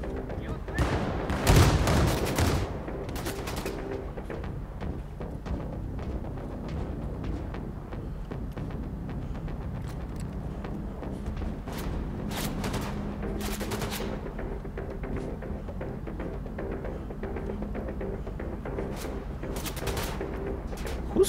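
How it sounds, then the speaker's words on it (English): Rocket launches and gunfire in the Wolfenstein II video game: a loud blast near the start, then a steady stream of sharp shots and bursts over a rumbling combat background, with occasional talk. "Who's shooting rockets at me?"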